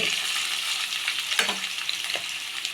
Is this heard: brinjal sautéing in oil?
yes